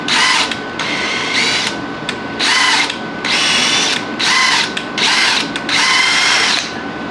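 A power drill runs a tap into threads for a stud in an exhaust manifold, whirring loudly and close in repeated bursts with short pauses between them.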